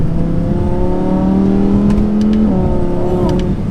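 A 2018 Audi R8 V10 Plus engine revs and climbs through a gear, then shifts, with a few faint exhaust pops crackling around the change, all loud and close from inside the car.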